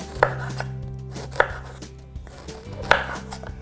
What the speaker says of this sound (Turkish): Tekrar doğramaya devam edelim.